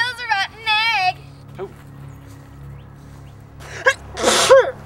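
Two sharp sneezes burst out loudly nearby, one at the start and a bigger one near the end, with voices and faint background rumble between them.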